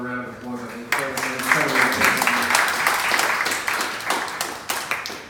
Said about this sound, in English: we'll give all four of our provocateurs another round of applause